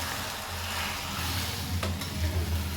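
An egg fries in a small tempering pan with a steady, close sizzle throughout, broken by a brief scrape or stir, and no talking.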